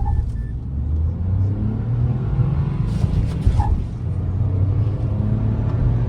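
A Hyundai Verna and a Mahindra XUV300 accelerating in a drag race, with a steady low engine rumble and road roar that holds at an even level throughout, fairly close.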